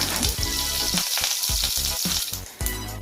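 Curry leaves hitting hot oil and seasoning seeds, a loud, close, dense crackling sizzle that spits in quick bursts with short pauses, heard alone without talk.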